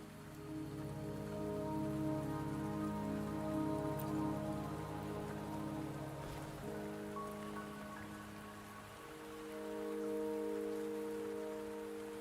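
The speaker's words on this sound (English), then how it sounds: "Don't worry, the rain won't last much longer." Steady rain falls in the video game Wuthering Waves, a continuous hiss of drops on surfaces running throughout, with soft tonal game music layered underneath.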